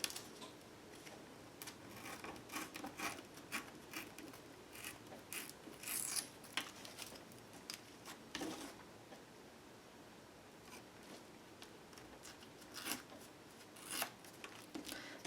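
Scissors trim around a paper image in a quiet room, giving soft, scattered snips and rustles of paper that come and go at a low level.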